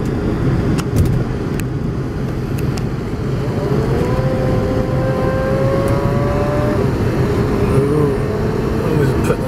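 An old motorbike engine revving as it is ridden, a continuous loud drone that rises in pitch mid-clip, heard from nearby.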